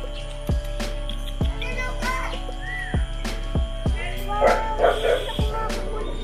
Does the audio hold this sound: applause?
no